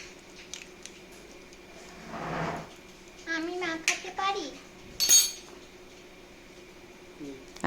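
An egg is cracked against a bowl and dropped into a seasoned chicken mixture in a home kitchen, giving scattered clinks, one sharp crack and a soft wet squish, with faint voices in the background.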